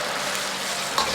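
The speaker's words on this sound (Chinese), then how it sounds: "酱汁炒制的时间稍微长一点，香味才浓郁，炒至酱汁呈现的拉丝状就可以了。" Sweet bean sauce stir-fried in a wok, a loud continuous close sizzle with a brief scrape near the end.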